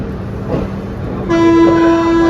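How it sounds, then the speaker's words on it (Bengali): A passenger train leaving a station on the Kolkata to Murshidabad route sounds a loud, sustained horn blast for about a second after a low rumble of movement. "পারফেক্ট টাইমে পরে ট্রেন স্টেশন থেকে ছেড়ে দিল"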